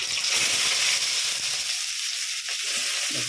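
Oil sizzling steadily in a pan as mustard seeds, urad dal and onions go in for a Tamil bitter gourd and mango kuzhambu, a constant bright hiss with small crackles and no talking.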